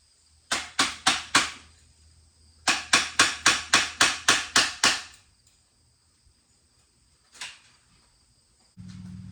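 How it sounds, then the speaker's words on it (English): Sharp metallic hammer blows on a stuck pipe joint strike in two rapid bursts, four then eight evenly spaced hits, followed by a lone knock and a low hum near the end. "I'll have to get a hammer and screwdriver or something and try to bust that joint loose"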